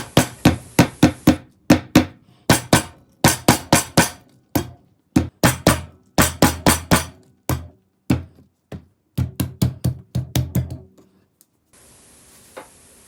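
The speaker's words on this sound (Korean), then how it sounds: "오이를 밀대로 꽝꽝 때려주세요" A rolling pin pounds a cucumber in quick bursts of loud, sharp thuds, each run of several hits separated by short pauses, ending with a brief hiss.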